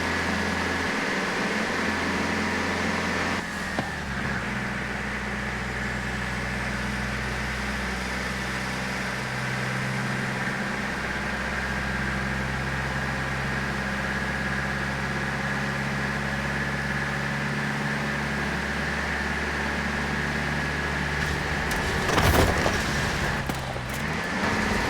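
A flatbed truck engine with 900 foot-pounds of torque climbing a hill in Forza Horizon 4, a steady low drone that holds evenly for a long stretch with a brief louder swell near the end.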